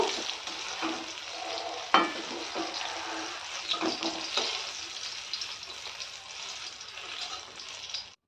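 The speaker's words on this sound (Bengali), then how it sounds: "এবার বেগুনগুলো ভাজা হয়ে গেছে, এবার তুলে নেব।" Eggplant slices fry in hot oil in a wok, giving a steady close sizzle with occasional spatula knocks and scrapes, one sharper clank early on.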